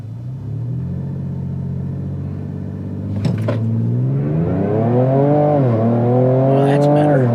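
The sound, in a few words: Ford Ranger Raptor accelerating hard on a test run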